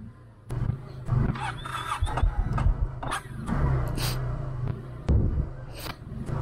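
A motorbike engine cranks and catches in heavy snow at Nathula Pass, with uneven bursts of mechanical noise and revving that rise and fall over several seconds, close by and fairly loud.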